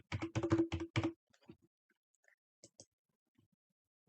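A computer keyboard being typed on, a quick burst of close clicking keystrokes at the start, then a few scattered taps amid quiet.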